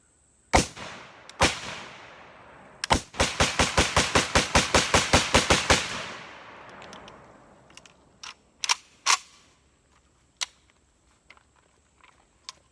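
An AK47 rifle fitted with a Venom gas block, fired outdoors: two single shots, then a rapid string of about a dozen evenly spaced loud cracks with echoing tails, followed by scattered isolated shots trailing off.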